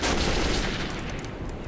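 Machine gun fire in the video game Metro 2033, a dense, loud burst of rapid gunshots that fades slightly over under two seconds.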